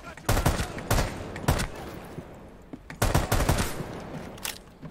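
Bursts of tap-fired gunshots in the video game Rainbow Six Siege, sharp loud shots in short clusters of two or three separated by brief pauses, with no talk.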